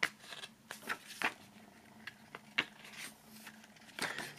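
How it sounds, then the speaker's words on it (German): Pages of a CD box-set booklet being flipped by hand, several quick papery swishes and soft rustles spaced unevenly across a few seconds, close and fairly quiet, with no talk. "Blättern wir einzeln durch."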